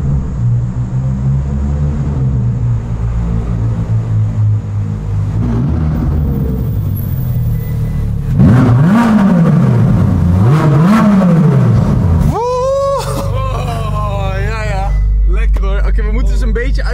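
A car engine hums and revs as it drives into a parking garage, with rising and falling engine tones echoing in the enclosed space while people talk over it.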